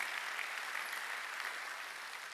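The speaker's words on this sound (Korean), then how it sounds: "박수로 하나님께 영광을" A church congregation applauds during a Sunday worship service, a steady, dense wash of many hands clapping at moderate distance, even and unbroken throughout.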